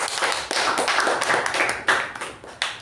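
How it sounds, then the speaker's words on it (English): A small group at a communication club meeting claps for guests who introduced themselves, sparse and uneven hand claps with distinct individual slaps rather than a dense roar, fairly close. "please give us a huge round of applause for our guests"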